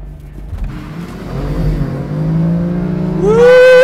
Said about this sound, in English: I've organised a little drag race.